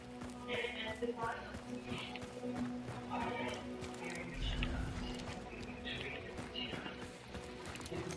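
Horse in the video game Hunt, hooves clip-clopping and a neigh or whinny rising amid game ambience, with a thud near the middle and talk over it.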